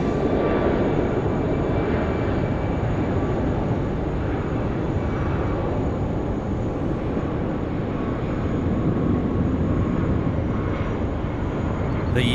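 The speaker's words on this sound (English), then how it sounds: "737 MAX, pumping it out, runway 16 right. Look at it go." A Batik Air Boeing 737 MAX jet takes off from runway 16R at Sydney Airport, its engines producing a loud, steady, close roar that holds unbroken the whole way through.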